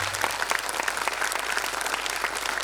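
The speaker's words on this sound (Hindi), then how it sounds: "एक बार जोरदार तालियां हो जाए।" Audience at a defence literature festival session applauding, a dense continuous patter of many hands clapping throughout, moderately loud in a hall.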